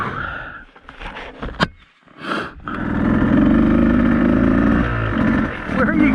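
A Beta 200RR two-stroke enduro motorcycle on a trail, its engine revving up into a loud sustained buzz after some brief voices and rustling, close by.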